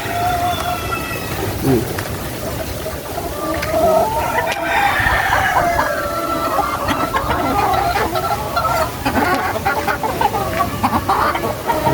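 Chickens clucking at a home in the Philippines, a busy flock close by with steady overlapping clucks and calls over constant background noise.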